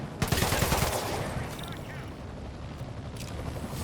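Rapid bursts of automatic gunfire from Marvel's Spider-Man Remastered, loudest in the first second, then a dense, sustained wash of combat noise that stays steady to the end.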